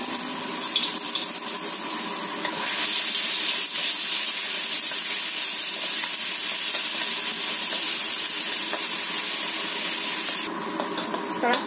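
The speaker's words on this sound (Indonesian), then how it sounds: "Kita tumis dulu bumbu halusnya sampai kecium baunya." Ground spice paste sizzling in hot oil in a pan, a steady, bright frying hiss that swells up after a couple of seconds, holds for several seconds, then eases back, close by.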